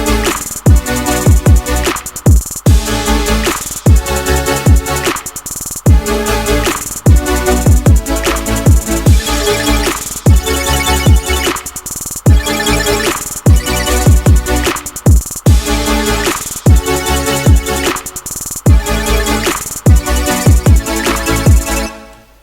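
A future bass synth patch built in NI Massive plays loud, rhythmic chopped chords in a repeating pattern over punchy low hits, dense and steady with no voice.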